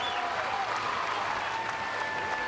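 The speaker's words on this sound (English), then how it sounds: "The crowd's going crazy." Crowd at the CrossFit Games applauding and cheering, a steady dense wash of clapping with raised voices throughout, loud and sustained without a break.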